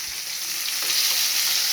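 Steamed eggplant sautés with garlic, onion and tomato in a pan, making a brief, steady sizzle that swells slightly. It sounds close and is heard alone.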